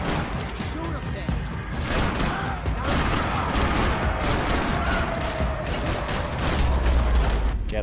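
Dense, continuous gunfire from the video game Max Payne 3: rapid overlapping shots and bursts packed tightly together with thuds and booms, loud and close throughout.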